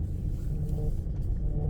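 Car engine idling in first gear at about 900 rpm, a low, steady rumble heard up close from inside the car, continuous and even throughout.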